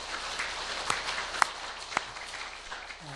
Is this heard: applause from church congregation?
yes